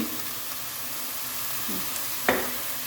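Onions cook in a small amount of oil in a pan with a soft, steady sizzle, broken near the end by one sharp knock of a utensil against the pan.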